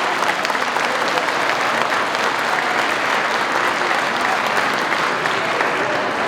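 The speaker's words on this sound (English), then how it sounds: "Please give a round of applause to Troy Fott for the performance." Audience applause after a performance at a state assemblymember's inauguration ceremony, a loud, dense, sustained burst of clapping from a large crowd, with no one speaking over it.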